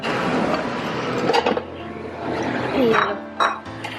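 Dishes and a frying pan clink and clatter in a home kitchen, with a few sharp metallic knocks and rings close by, while people talk over the clatter.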